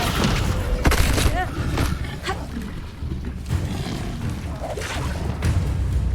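Bombarda blasting spell going off in Hogwarts Legacy, loud booming explosions and rumbling impacts in quick succession with roaring bursts layered through the whole stretch.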